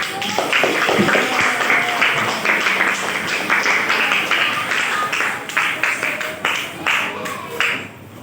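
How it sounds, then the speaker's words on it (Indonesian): A classroom of students applauds a group, a loud, dense patter of many hands clapping that runs steadily for several seconds, with voices mixed in underneath before it thins out near the end. "Beri tepuk tangan untuk kelompok 1."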